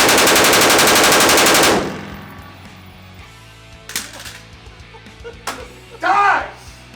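A loud, close burst of rapid automatic fire from a Primary Weapons Systems rifle during a torture test, lasting under two seconds. Sporadic sharp clatters and talking follow.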